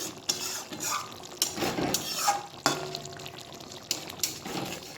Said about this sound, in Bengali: একটু ভালো করে আমি মিশিয়ে নিচ্ছি ধনে পাতাটাকে